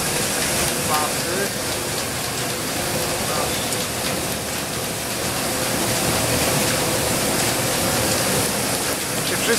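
Old pre-war flour mill machinery runs continuously, a dense steady rumbling, rattling roar with a whooshing broadband wash, loud and close throughout with no break.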